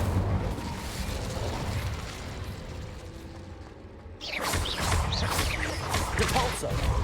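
Fire spell cast in a fantasy wizard game: a burst of crackling, roaring flame rises sharply midway and keeps going loud and dense over a busy background.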